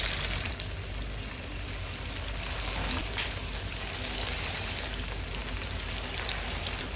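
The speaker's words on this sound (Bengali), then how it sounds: "তারপর মাছগুলো ছেড়ে দিচ্ছি আর এখানে তেলের টেম্পারেচার ওয়ান সিক্সটি থেকে ওয়ান সেভেন্টি" Fish pieces frying in oil heated to about 160–170 degrees in a frying pan, a steady dense crackling hiss like heavy rain that runs unbroken and fairly loud throughout, with no voice over it.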